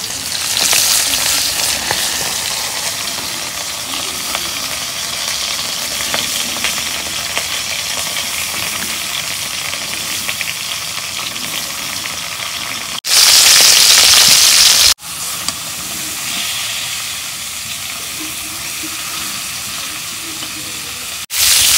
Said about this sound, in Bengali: মাছ ভাজা হয়েছে, মাছগুলো এখন নামে নিই।